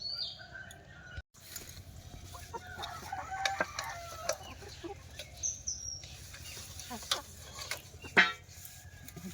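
A village rooster clucks and gives short crowing calls around a rural Bengali homestead, moderately distant, with scattered bird chirps and faint background noise.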